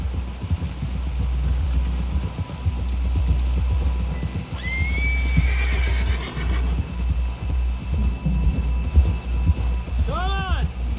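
A horse neighs in the video game Red Dead Redemption 2, two distinct whinnies standing out over a steady low rumble of movement, the second short and sharp near the end.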